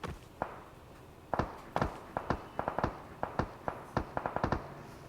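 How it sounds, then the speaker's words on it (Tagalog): Gunfire in the PUBG Mobile battle royale game, a run of sharp, scattered shots, some single and some in quick clusters, moderately loud with no talk over them. "May bumabaril."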